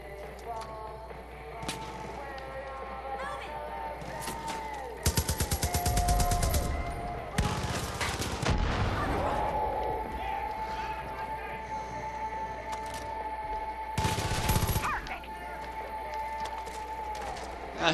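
In Far Cry 5, a mounted gun fires rapid automatic bursts. Two dense volleys rattle loudly a few seconds apart over droning ambient game noise and a sustained tone, and a third shorter burst follows later.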